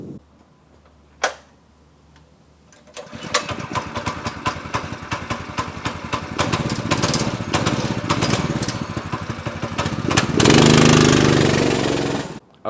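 A Doodlebug minibike's small engine pulls to life after a starting tug, then runs with a rapid, buzzing putter that rises in pitch and volume during a ride before roaring loudly near the end.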